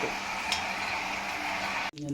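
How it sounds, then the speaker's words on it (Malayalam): Herbal coconut hair oil cooking down in a pan until the water evaporates, a steady close bubbling hiss with a soft clink, ending in an abrupt cut. "ഇത് ഇപ്പോൾ തിളച്ചുകൊണ്ടിരിക്കുന്നതിൻ്റെ ഒച്ചയാണ് കേട്ടുകൊണ്ടിരിക്കുന്നത്"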